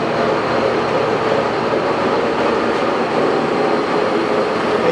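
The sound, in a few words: Jet 16 x 60 gap lathe spindle running at 870 RPM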